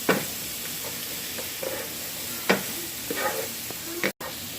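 Onions frying in a pan on the stove, a steady sizzle and hiss with intermittent scrapes and clacks of a utensil stirring them, close up with no talking.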